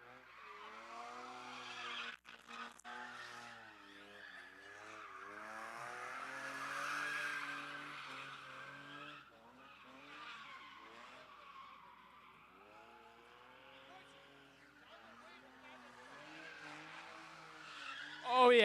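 A drop-top BMW convertible doing a burnout at a motorsports event, its tires squealing in long wavering howls with engine revving underneath, fading and swelling, a voice talking over it.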